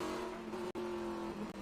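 Chevy Camaro TA2 race car screaming along at Watkins Glen, a steady high-revving engine drone heard close up with two brief cuts, like quick gear shifts or lifts.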